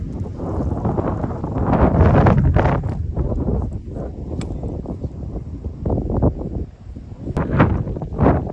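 Gusty wind on Mt. Cagua buffeting the microphone in loud rumbling bursts that swell and fade, with occasional brief rustles.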